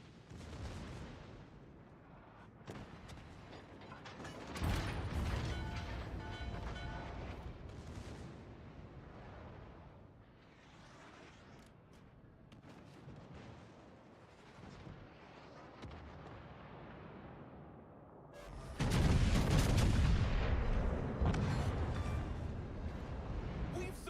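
Heavy naval gunfire and booming explosions from a warship battle video game, with a big battleship and destroyer engagement; dense rumbling salvos roll on throughout and swell into a loud blast near the end, with a voice talking at times.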